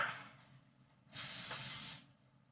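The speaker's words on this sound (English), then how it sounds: "let me spray it just a little bit" Cooking spray hisses from a can into a cheesecake pan in a home kitchen, one steady close burst of about a second against a quiet room, with no talk over it.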